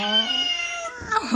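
A toy cat meows in a long, drawn-out electronic cry, followed by a shorter meow.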